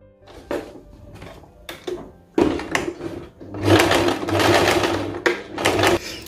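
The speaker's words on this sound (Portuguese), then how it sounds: "Eu vou passar a costura agora aqui por cima." A sewing machine stitches over a shirt pocket in short whirring bursts that lengthen into a steady run near the end, close and fairly loud, with knocks between runs.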